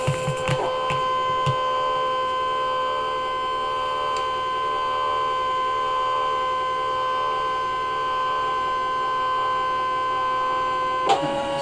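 A ScanNCut cutting machine scans a fabric piece, giving a steady mechanical whir with tonal motor hums that runs evenly throughout, with a few faint clicks at the start and a brief knock near the end.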